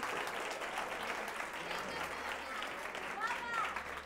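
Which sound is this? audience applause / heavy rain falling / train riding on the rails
audience applause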